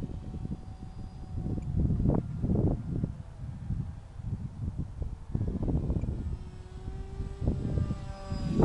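A Dynam Hawksky RC foam airplane, electric motor at about half throttle, drones past at a distance with a steady whine that swells and fades, under light wind noise outdoors near trees.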